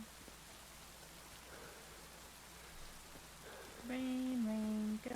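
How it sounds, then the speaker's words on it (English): Steady soft rain hiss in the video game Kingdom Come: Deliverance II fills the scene throughout, with a brief tonal chime near the end over the downpour. "Oh my goodness, it's raining."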